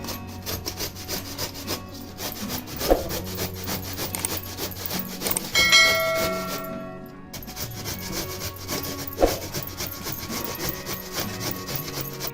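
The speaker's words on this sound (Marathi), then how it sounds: "आंब्याची साल काढून घेतलेली आहे अशी पूर्ण आता आंबा हा किसून घ्यायचा आहे" Peeled raw green mango is grated by hand for gulamba, a repeated rough rasping rub in steady strokes with a few louder scrapes and knocks, close by and without speech.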